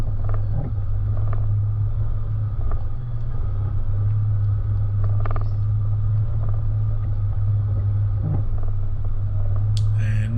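A 4WD descends a steep mountain track in low range, its engine braking as a steady, loud low rumble and drone that holds throughout, with wind noise and occasional knocks over the top.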